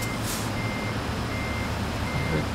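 A truck's reversing alarm in the Trucks & Trailers game beeps steadily and continuously over a low engine rumble.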